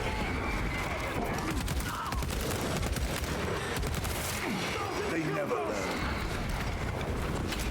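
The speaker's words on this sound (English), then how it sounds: "it's just a pulse rifle." Pulse rifle fire in Warhammer 40K: Space Marine II: a dense, fast patter of sharp shots runs steadily throughout, mixed into busy battle noise with a voice underneath.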